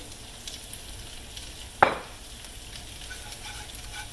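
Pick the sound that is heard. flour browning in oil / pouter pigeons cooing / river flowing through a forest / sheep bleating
flour browning in oil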